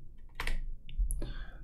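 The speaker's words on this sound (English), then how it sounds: "I just press Ctrl, Alt, and T to toggle it instantly." A Ctrl, Alt and T shortcut pressed on a computer keyboard, a few quiet close key clicks in quick succession.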